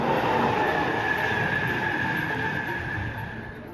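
The Tornado steam locomotive runs along the rails with a steady rolling roar and a faint high wheel whine, loud at first and then slowly fading as it draws away.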